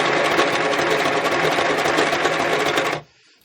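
A sewing machine runs a zigzag stitch through junk journal pages made from old book pages, a close, loud, fast rhythmic needle chatter lasting about three seconds before stopping abruptly.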